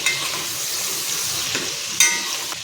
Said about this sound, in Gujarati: ડુંગળીને આપણે પલટાવી લઈશું।